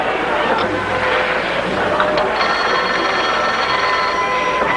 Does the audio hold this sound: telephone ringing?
yes